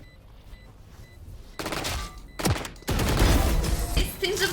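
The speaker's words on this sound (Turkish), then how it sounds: "tırırt tırırt diye vurduğunu bilmediğimden bir an afalladım" Bursts of automatic gunfire in a competitive first-person shooter video game: a short volley, a brief pause, then a longer sustained burst of rapid shots, loud and close.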